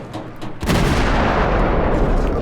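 A naval cannon blast booms from a Phoenix cruiser in World of Warships, a loud, close burst rising from quieter rumbling and then holding as a dense, sustained roar.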